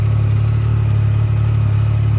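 A 2016 Yamaha YXZ utility vehicle engine idles with a steady, loud low drone and faint mechanical whir, close up and unchanging, no voices.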